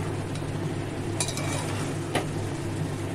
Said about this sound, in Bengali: তাই এটাকে নেড়ে দিলাম ভালো করে